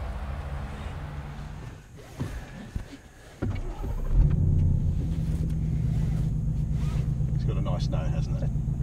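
A 2016 Ford Mustang GT V8 fires up: after a quiet stretch with light handling noises, the engine catches around the midpoint and settles into a steady, loud, deep idle rumble that fills the rest of the clip.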